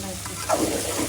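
Turmeric, chilli, cumin and coriander spices frying together in a pan, a soft continuous sizzle with faint stirring scrapes, fairly quiet and brief.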